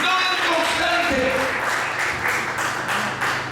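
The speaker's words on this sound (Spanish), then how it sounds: "Den un aplauso al Señor." A church congregation applauds during a sermon, a broad burst of clapping that starts loud and gradually thins while a voice and lingering tones sound beneath it.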